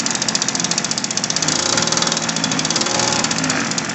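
Small two-stroke gas engine on a Windjammer motorized bicycle running steadily after a carburetor repair and fuel line install, a loud, close, continuous buzzing rattle with a fast regular pulse and no talking.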